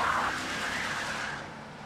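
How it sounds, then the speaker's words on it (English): A car accelerates away with a steady engine roar and a hint of tire squeal, fairly loud at first and easing off slightly over two seconds, with no talk. "Suspect is pulling away."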